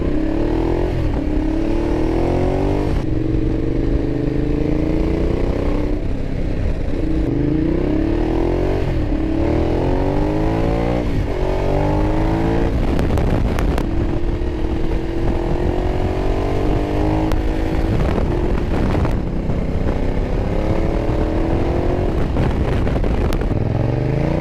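A 2012 Ducati Diavel motorcycle ridden on bumpy secondary roads, its engine loud and close throughout with repeated rising and falling revs as gears change, plus rattles and wind buffeting.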